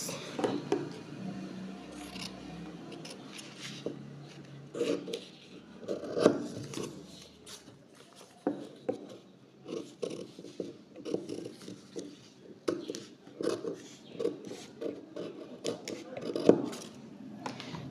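Scissors snip through fabric while cutting an asymmetric neckline, a quiet close run of irregular crisp cuts and rustling cloth, with no talking.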